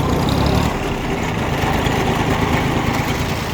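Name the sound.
Yanmar F14D small tractor engine idling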